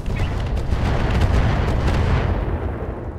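Laser weapon firing in the BattleTech video game, modded with RogueTech: a loud, continuous roaring blast with a deep rumble that holds for about three seconds, then thins and fades at the end.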